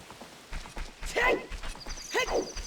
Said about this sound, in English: Ah, there you are, girl. Ah, how's my sweet little horse?